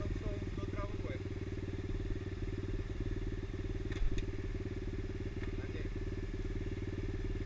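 A pit bike motorcycle engine idles with a steady, rapid mechanical thrum, close and continuous, with a faint rattle and a brief knock partway through.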